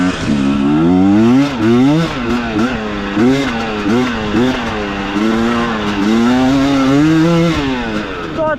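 A KOVI 300 Pro 2T two-stroke enduro motorcycle revs hard and accelerates, its raspy engine note climbing and falling through repeated surges, loud and close, with no talking over it.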